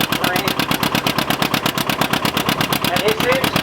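A John Deere R tractor's two-cylinder diesel pounding under heavy load on a prony brake dyno at a 2008 Rollag show, a rapid, steady, loud chugging beat close by.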